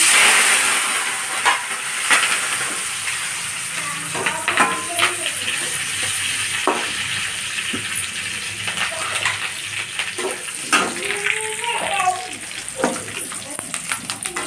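Curry leaves frying in hot oil on a stove while making a fried mixture snack, a steady close hiss and sizzle with bursts of crackling and occasional stirring clinks throughout.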